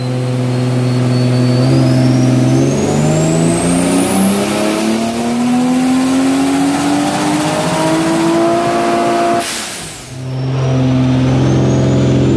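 A turbocharged car engine fitted with a screamer pipe and still running a catalytic converter revs loudly and continuously, its pitch climbing and falling through several sweeps, with a brief dip and lift near the end and a whistling turbo tone above.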